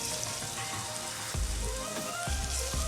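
Garlic and onions sauteing in oil in a pot, a steady crackling sizzle throughout with a few louder pops and bursts, close and fairly loud, no talking.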